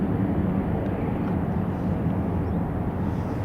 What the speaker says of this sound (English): EasyJet on the approach.